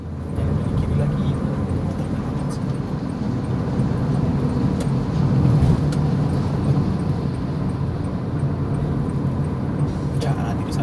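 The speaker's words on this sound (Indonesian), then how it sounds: "Ini volume kendaraan juga yang dari arah timur juga lumayan banyak nih." Steady road traffic on a busy street, with a dense, continuous rumble of cars and other vehicles passing nearby at an even level, without clear individual pass-bys and with no speech over it.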